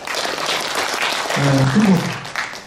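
An academic conference audience applauds the presenters and moderator with dense, sustained clapping that fills the room, while a voice speaks briefly over it partway through.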